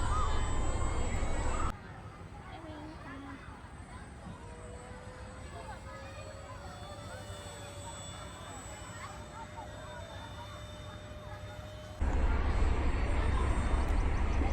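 A high-lift wing RC plane passes overhead, its faint, steady motor whine drifting across the sky for most of the stretch, with louder wind or handling noise at the start and end.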